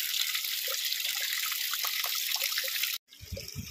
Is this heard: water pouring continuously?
yes